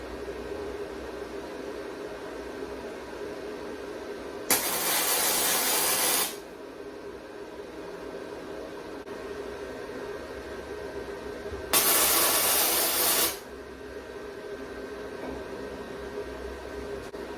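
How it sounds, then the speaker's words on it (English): Tack welds on a Harley hardtail frame: two separate bursts of loud, steady frying hiss, each lasting about two seconds, set against a constant background hum with no talking. "And then we're going to start tacking."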